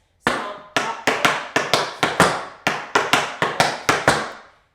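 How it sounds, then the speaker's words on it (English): Crisp metallic taps of tap shoes striking a hard floor in double time steps, about a dozen sharp hits in quick syncopated rhythm, close and loud with no voice. "Then that goes into 2 double time steps."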